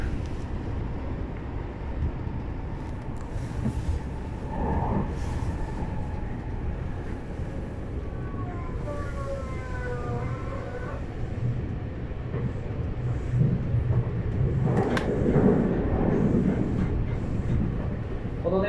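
A Tokyu 5050 series train running as a rapid express on the Seibu Ikebukuro Line between Tokorozawa and Shakujii-koen, heard from inside as a steady rumbling roar with rising and falling motor whine, continuous and fairly loud.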